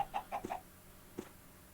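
Minecraft chicken clucking in a quick burst of four short clucks followed by one more after a pause, close and moderately loud with no talk.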